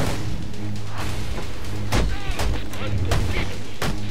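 Gunfire in Batman: Arkham Origins: several sharp shots ring out at irregular intervals amid a busy, loud fight mix with a low rumbling bed.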